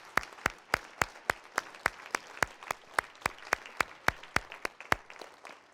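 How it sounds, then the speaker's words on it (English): A church congregation claps hands in a steady, evenly spaced rhythm, about twenty sharp unison claps over several seconds, fairly quiet and with no talking over them. "Come on, clap your hands."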